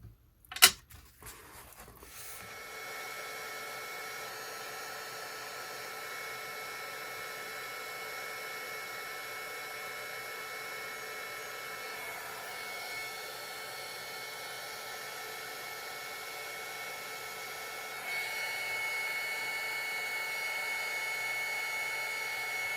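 A heat tool blows steadily on a craft medium, a constant whirring hiss with a faint high whine that runs the whole time after a few clicks and clatters at the start.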